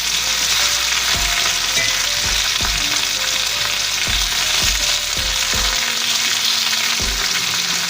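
Diced potatoes, green pepper and garlic sizzle loudly in a hot pan as a utensil scrapes and stirs them, with a dense, constant hiss broken by repeated knocks of the spoon against the pan.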